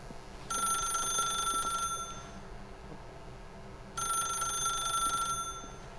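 An old-fashioned telephone rings inside The Stanley Parable video game: two clear bursts of bright electronic bell trilling, each lasting a second or so with a pause between, over quiet low ambience.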